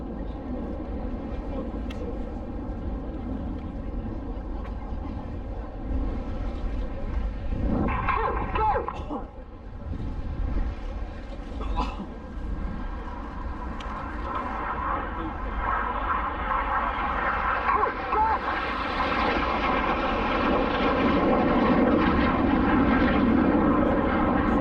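Red Arrows display jets at RIAT 2022 air show perform double barrel rolls, their engine roar building and swelling across the clip, with a public-address commentator talking over the sound.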